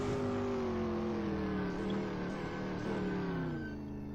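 A race car engine drones steadily at high revs around Sebring International Raceway in the Assetto Corsa sim, pitch slowly falling and rising through gear changes, loud and continuous with no talk.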